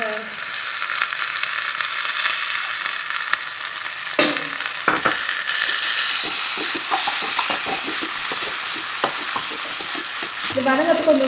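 Avaram (tanner's cassia) flowers sautéing in a pan give off a loud, steady sizzle, with a spoon scraping and tapping the pan in bursts and a brief low clatter near the end.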